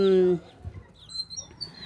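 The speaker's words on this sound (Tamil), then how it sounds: "கோழி குஞ்சுங்க இவங்கெல்லாம் வந்து நிற்கிறாங்க பாருங்கள்" A hen's short clucking call, then faint high peeping of chicks and soft scuffling nearby.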